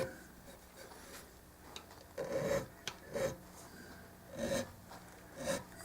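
A file or abrasive rubs the end of a banjo fret to smooth and round it, heard as several short, quiet scraping strokes spaced about a second apart over a faint background.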